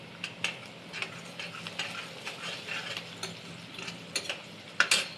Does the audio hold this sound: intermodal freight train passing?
no